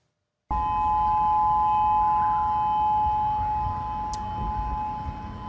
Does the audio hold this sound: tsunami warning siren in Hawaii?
yes